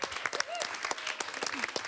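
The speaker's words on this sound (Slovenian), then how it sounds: "En aplavz za drugovrščene oziroma tretje na koncu" Audience applause for the third-placed school team at a school cooking competition, steady dense clapping throughout with a few voices mixed in.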